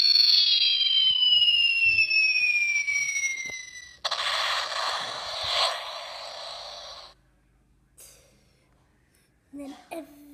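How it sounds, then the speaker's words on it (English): Bomb explosion effect in a Lego Movie retelling: a long, loud descending whistle gives way to a dense, noisy blast lasting about three seconds, followed by quiet gaps and a few brief faint sounds near the end. "It was a peaceful morning before the bomb."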